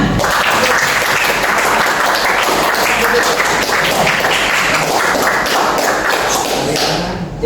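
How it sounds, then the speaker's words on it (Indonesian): Loud, dense clapping from a class audience during a school lesson, continuous and close with many overlapping hand claps and thumps, tapering off slightly at the very end. "Oke, tepuk tangan."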